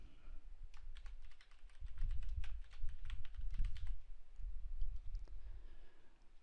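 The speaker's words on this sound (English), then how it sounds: "simply hit the manual description and you can type your own words" Close, quiet clicking of a computer keyboard as a description is typed into a software panel, a quick irregular run of keystrokes with brief pauses and no talking.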